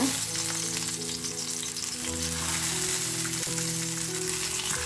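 Halved tomatoes sizzle and fry in oil in a pan over a low flame, a steady close crackling hiss that runs unbroken throughout with no voices.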